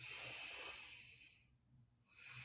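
Slow, audible breathing during a Vinyasa yoga exercise, a long airy inhale that fades to near silence before the next breath starts, close and fairly soft.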